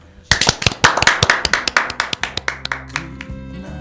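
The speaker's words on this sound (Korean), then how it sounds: "우리 박수로 마무리를 합시다." Audience clapping closes a local talk show, a burst of sharp claps from a few people nearby that is loud at first and gradually thins out and fades within a few seconds.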